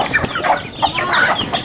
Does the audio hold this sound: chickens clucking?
yes